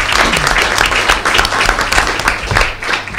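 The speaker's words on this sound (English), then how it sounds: "We appreciate some applause because this is very good news." Applause at a school district board meeting after resolutions pass, a crowd of hands clapping loudly and steadily with a few distinct louder claps, mostly alone without talk.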